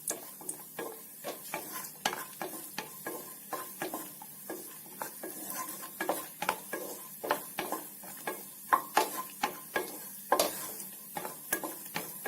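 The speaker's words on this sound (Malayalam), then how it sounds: "ഫസ്റ്റ് നമുക്കിതൊന്ന് നന്നായിട്ടൊന്ന് ഫ്രൈ ചെയ്തെടുക്കാം." Cashews frying in a pan while unnakkaya, a Kerala banana snack, is being made: rhythmic spatula scrapes and taps against the pan over a quiet sizzle, close-up and without speech.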